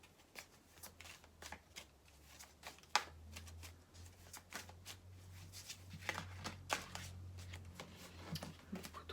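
A deck of cards is shuffled repeatedly by hand, a quiet run of riffles and soft flicks with rapid fluttering bursts, heard close under a low background hum.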